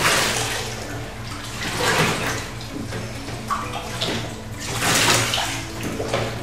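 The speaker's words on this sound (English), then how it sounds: "So the conditioner helps this rinse right on out." Running water splashes and pours steadily as conditioner is rinsed from a rescued, blind Pomeranian's fur during a bath. The sound swells and fades in waves close by.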